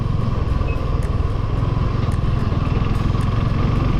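Motorcycle engine on a highway road trip ride, a loud steady rumble with rhythmic low pulsing and wind noise, sustained close to the listener with no talk.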